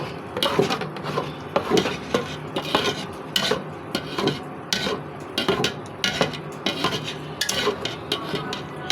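A spoon scrapes and clatters against a pot while stirring payesh, a rice pudding made with jaggery, sugar, ghee, cinnamon and bay leaf, in repeated close rhythmic strokes, with no talking.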